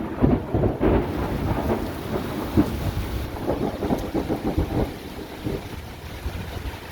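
Low rolling thunder from a lightning strike rumbles over steady rain during a severe thunderstorm on Dauphin Island, Alabama, with a few louder cracks early on, heard from outdoors amid wind and spatter.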